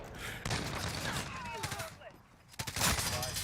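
Light machine gun fire in a video game, a dense burst of rapid shots that drops off and then returns in a second loud volley, with a voice talking over the gunfire.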